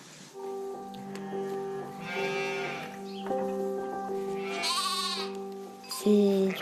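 Sheep bleat repeatedly, several ewes calling in overlapping, quavering cries at close range on a farm, some calls loud and strained, with faint voices in the background.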